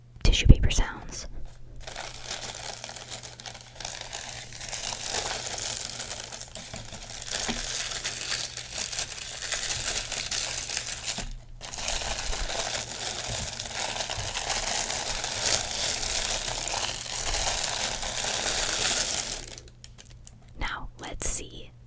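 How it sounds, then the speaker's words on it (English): Tissue paper from a sneaker box for Jordan 1 shoes crinkles and rustles steadily up close, with soft crackling texture broken by two brief pauses, and whispery sounds mixed in. "Then let's get into some tissue paper sounds."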